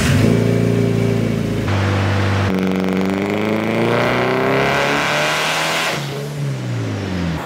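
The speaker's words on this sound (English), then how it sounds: "we're gonna start with some part throttle pulse." An 800 hp big-turbo Mitsubishi Evo 9 running 114-octane E90 fuel does a part-throttle pull, its engine droning loud and close as the pitch climbs steadily through the gears, with a shift pause partway, no talking.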